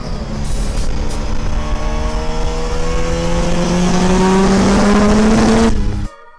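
Datsun 1600 with a naturally aspirated, carburetted 13B rotary engine driving hard: a loud, raspy rotary howl that climbs steadily in pitch as it accelerates, then cuts off abruptly near the end.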